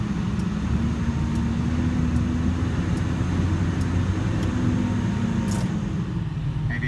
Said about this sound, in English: I don't know if you can hear the engine RPM go up.